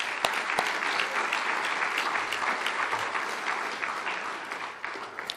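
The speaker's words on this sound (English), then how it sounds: "Please give them a round of applause." Banquet audience at an anniversary dinner applauds three former presidents, a steady crowd of clapping hands with crisp individual claps standing out, even and sustained throughout.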